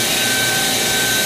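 A Kitamura HX300 horizontal machining center hums steadily while indexing its B axis, a loud, even mechanical whir with a high tonal whine running throughout.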